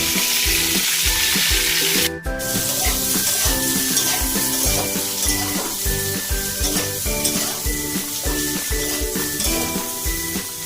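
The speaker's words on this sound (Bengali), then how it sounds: "ফুলকপিটা দিয়ে একটু ভাজা ভাজা করবো, লাল হবে না। 2-3 মিনিট এটা নাড়বো" Cauliflower frying in a pan for a Bengali vegetable bhuna, sizzling steadily while being stirred, with a sharp clatter of the utensil against the pan near the start and repeated scraping strokes throughout.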